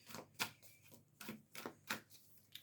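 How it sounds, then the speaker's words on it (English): A deck of tarot cards being shuffled by hand, with a few crisp, papery riffling bursts in an irregular rhythm, close and fairly quiet, with no talking. "These cards are shuffling so weird."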